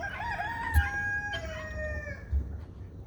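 A small rooster crows once, with a thin, wavering, rising-then-falling call, and a few soft clucks follow against quiet background noise.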